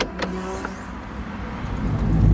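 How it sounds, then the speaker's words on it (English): Boot of a BMW E46 opening, a short whirring mechanical motor sound with a couple of clicks, close by, followed by rising low rumble. "you know it's an E46 boot opening."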